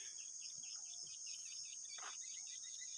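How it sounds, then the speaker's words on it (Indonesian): Morning birds chirp faintly at a distance over a constant high insect-like drone, with a few short calls scattered through a quiet rural road scene. "kicauan burung-burung pagi ya."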